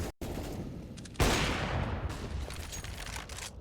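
Gunfire is sprayed in rapid bursts in Counter-Strike on the Nuke map, a dense, loud crackle of shots after a brief gap, continuing steadily as a sustained fusillade.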